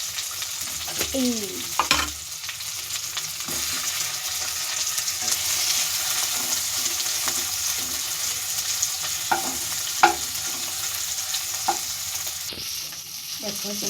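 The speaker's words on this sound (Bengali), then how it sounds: "এবার আমি মাছটা হালকা করে ভেজে নেব" Fish and prawns sizzle lightly in hot oil with black cumin for a prawn malai curry, a steady frying hiss broken by a few scrapes and stirs of a spatula, with a short spoken word.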